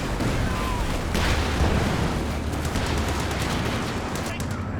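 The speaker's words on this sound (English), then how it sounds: "Just continuous land mattress fire, it feels like." Artillery and Land Mattress rocket barrages in a Company of Heroes 2 four-versus-four battle on Lienne Forest, a dense, continuous rumble of overlapping launches and impacts with a few sharper bursts standing out.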